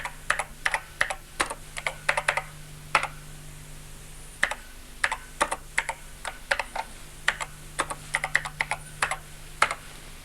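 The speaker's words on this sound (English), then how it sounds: "And we can continue to type in lines of BASIC." Lines of BASIC are typed on the keyboard of a 1983 Acorn Electron home computer: a close, brisk run of plastic key clicks in uneven bursts and short pauses, with no talking.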